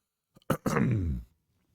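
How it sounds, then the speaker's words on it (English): A short, close throat clearing: a couple of small clicks followed by one rough, guttural rasp lasting about half a second. "Sorry about clearing my throat."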